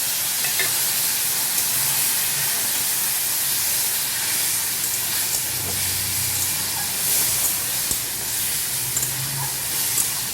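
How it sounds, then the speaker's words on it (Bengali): Cumin powder, turmeric powder and ginger paste sautéing with a splash of water in a pan for a potol and bata fish curry, giving a steady, continuous hiss and sizzle with faint low clatters, no voices. "জিরে গুঁড়ো, হলুদের গুঁড়ো, আদার পেস্ট, সামান্য একটু জল দিয়ে কষিয়ে নেব।"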